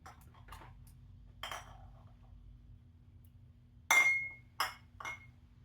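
Glass jars being handled while a pantry is being sorted, first with soft shuffling and light knocks, then several sharp, close clinks and rings of glass against glass near the end.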